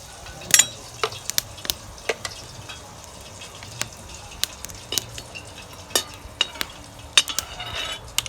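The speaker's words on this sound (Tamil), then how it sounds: "பெருங்காயம் நல்லா பொரியட்டும்." A piece of asafoetida frying in hot oil for a Tamil pirandai (adamant creeper) chutney: a soft, steady sizzle broken by sharp spoon taps and clinks against the pan.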